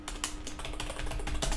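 Fast typing on a computer keyboard during a typing-speed test, a dense run of quick clicking keystrokes up close, with no talking.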